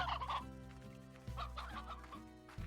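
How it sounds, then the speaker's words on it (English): Elder hen in the Slime Rancher video game clucking in a few short bursts over steady game music, moderately loud and close. "Oh, that's an elder hen."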